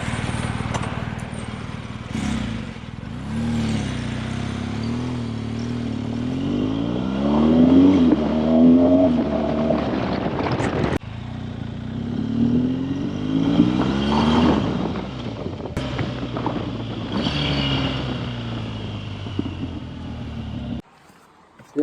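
A BMW R1200GS motorcycle fitted with an Akrapovic slip-on exhaust, warm rather than cold, revved repeatedly from idle, its pitch climbing and falling in several loud blips before settling back to a steady burble, close by and without speech.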